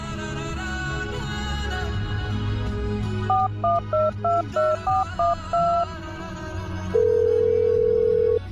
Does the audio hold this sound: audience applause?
no